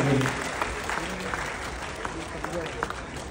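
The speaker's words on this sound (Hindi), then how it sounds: "तालियां बजाइए, चिल्ला चिल्ला करके लगे" Applause for teachers at a school gathering of kids and parents, steady clapping from the audience lasting the few seconds, moderately quiet and diffuse with faint voices mixed in.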